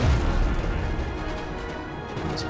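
Cannon fire on a battlefield in Empire Total War, a dense rumbling barrage of heavy booms that fills the whole moment at steady loudness, with no talk over it.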